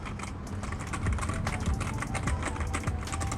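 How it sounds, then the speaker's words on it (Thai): Rapid, steady typing on a NUBWO X28 Sorcerer gaming keyboard with silent switches produces a dense run of soft, muted key taps heard up close. "ประมาณนี้นะครับถ้าพิมพ์ มันจะมีแรงต้านนิ้วเรานิดนึงนะครับ"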